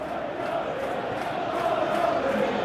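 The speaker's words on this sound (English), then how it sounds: "you can feel and hear how the crowd are reacting to all of this" Stadium crowd noise in an eFootball match, a steady roar with rising murmurs of reaction, loud and continuous throughout, with no commentary over it.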